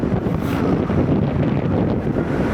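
Wind roars against the microphone while riding a Honda Giorno scooter on the road to Santa Maria, a dense continuous buffeting rush, loud and close, with no voice.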